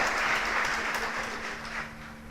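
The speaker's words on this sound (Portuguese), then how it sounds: "Você pode aplaudir ao Senhor?" A church congregation applauding during a sermon, a fairly distant, soft wash of clapping that holds steady and then tapers slightly, heard alone without speech.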